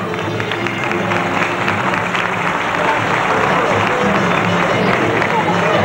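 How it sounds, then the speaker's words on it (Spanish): Crowd applause at a town anniversary show, steady dense clapping blended with crowd hubbub and voices, loud and sustained throughout without fading. "el aplauso de la gente que te mira,"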